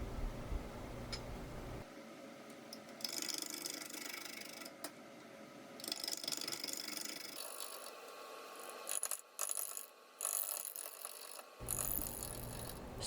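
A wood lathe spins an odd-shaped log at about 300 RPM while a tool bites into it, making uneven scraping and chattering bursts over a rumbling hum, with several abrupt drops and pauses.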